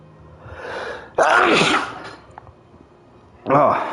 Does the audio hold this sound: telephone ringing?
no